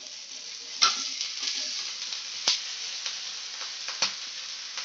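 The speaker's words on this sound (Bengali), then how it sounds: "তেলের মধ্যে চিনিটা দিয়ে দেবো, সাথে সাথে ভাতটা দিয়ে দেবো।" Cooked rice and sugar frying in hot oil, a steady close sizzle with a few sharp bursts as the rice is stirred and tossed.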